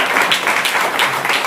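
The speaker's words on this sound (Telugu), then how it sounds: "గట్టిగా చప్పట్లు కొడదామా?" A church congregation claps loudly and steadily in a Telugu Sunday service, a dense continuous applause wash with faint pulsing rhythm throughout.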